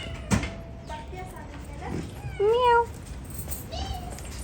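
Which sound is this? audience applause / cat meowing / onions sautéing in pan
cat meowing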